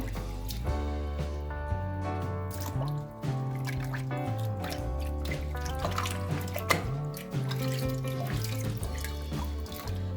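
A washed bitter gourd is squeezed by hand in a bowl of clean water, releasing close, quiet dripping and trickling with soft squishing sounds throughout, no talk.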